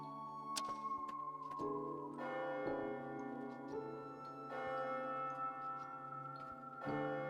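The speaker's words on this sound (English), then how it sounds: "Is that the bell? The clock moved. Midnight." A clock bell in the game AI: The Somnium Files – Nirvana Initiative strikes midnight, sounding several resonant chimes that ring and sustain over one another, with sharp ticking clicks between them.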